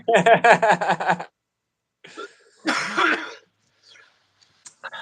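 A person coughs several times in a quick harsh burst, followed after a pause by a rough throat-clearing cough and quieter breaths.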